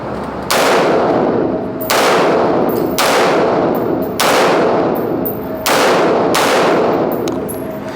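Alpha Retro APW15 firing single shots, each a sharp, loud report with a long ringing decay, about five evenly spaced over several seconds with no talking.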